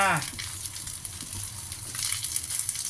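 Ground fish and long beans frying in hot oil in a home kitchen, a steady close sizzle and crackle, with a short whistle-like tone at the very start.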